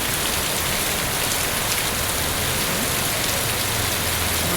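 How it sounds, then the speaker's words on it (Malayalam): Sudden steady rain pours down onto a street where autorickshaws stand in a row and buses pass, a dense continuous hiss with a low traffic rumble underneath and no voices. "ഓർക്കാപ്പുറത്തൊരു മഴ"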